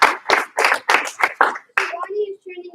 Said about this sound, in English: Give her one clap, two stomps.